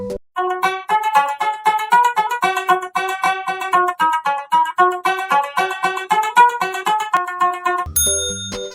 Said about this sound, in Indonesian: Panting adalah kesenian musik tradisional khas dari suku Banjar di Kalimantan Selatan.